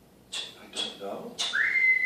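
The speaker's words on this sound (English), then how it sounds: "That's a whistle. That's a whistle." After a couple of short voiced bursts, one clear whistle rises and then holds a steady, sustained note, close and fairly soft.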